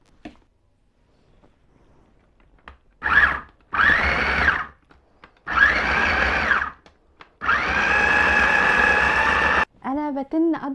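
A blender whirs through a thick daqqus tomato sauce mixture in several short pulses, then one longer steady run, loud and close, with a voice speaking briefly at the end.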